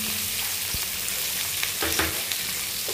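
Carrot, tomato and capsicum fry lightly in a pan, giving a steady close sizzle with occasional stirring scrapes and small pops throughout.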